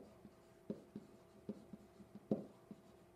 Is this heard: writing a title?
yes